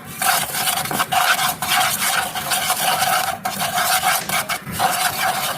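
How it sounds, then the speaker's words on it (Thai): Chocolate and cinnamon stirred in a pot to melt them, producing a continuous loud scraping and rubbing of the utensil against the pot, close up, with brief uneven pauses. "กวนให้ คนให้ช็อกโกแลตละลายแล้วก็ให้อบเชยมันมันเข้ากับ"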